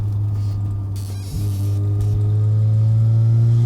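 A 400 hp Mazda FC RX-7 rotary engine drones loudly and steadily from the rear, its pitch climbing and holding under acceleration, with a brief bump near the middle and no talking.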